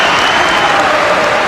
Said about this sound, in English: Applause from the Everton fans.